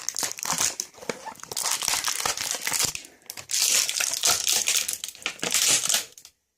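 Plastic packaging around a Lego minifigure Christmas gift crinkles and crunches loudly up close, in continuous rustling bursts with a brief pause midway, ending abruptly.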